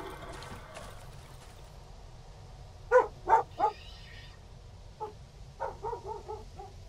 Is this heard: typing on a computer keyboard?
no